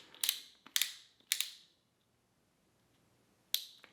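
A torque wrench set to about 26 inch-pounds clicks while tightening an Aimpoint ACRO P-2 optic mount: four sharp, close clicks, three in quick succession, then a pause before a final click and a softer tick.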